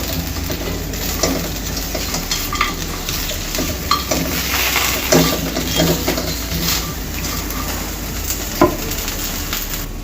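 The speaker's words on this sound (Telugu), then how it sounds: "ఇప్పుడు మనం వేయించి పెట్టుకున్న ఈ కాలీఫ్లవర్ ముక్కలు వేసి ఇదంతా ఒకసారి మిక్స్ చేసుకోవాలి." Fried cauliflower pieces are stirred in a sizzling pan, a steady frying hiss with occasional scrapes and knocks of the spoon against the pan, close by with no talk.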